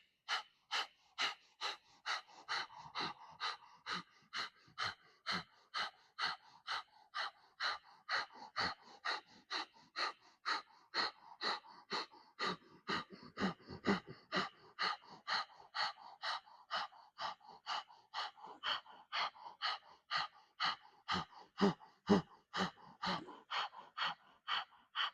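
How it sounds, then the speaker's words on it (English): Breath of fire in a Kundalini yoga kriya: a fast, even train of sharp nasal exhalations, about two per second, steady and close for the whole stretch with no talking. "When I say begin, lift up and do breath of fire."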